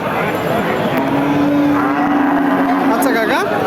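Cattle at a Naogaon livestock market, where lean, bony cows are bought, give one long, loud moo lasting a few seconds over a dense bed of market crowd noise.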